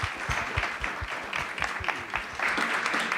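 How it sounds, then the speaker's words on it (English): An audience at a live event at Temple University in Philadelphia breaks into steady, dense applause as guests walk on stage. Sustained clapping from a crowd fills the room at an even level, with a few sharp individual claps standing out. "Give them a round of applause as they come."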